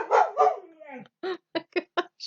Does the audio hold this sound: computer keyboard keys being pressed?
no